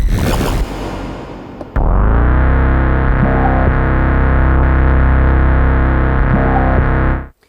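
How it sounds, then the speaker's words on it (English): One-shot synth hit from analog modular and boutique synthesizers: a loud, distorted, sustained tone that swells in abruptly and holds steady for several seconds before cutting off, preceded by a brief noisy burst, with no voices. "these one-shot sounds are coming from actual analog modular synthesizers and boutique synthesizers"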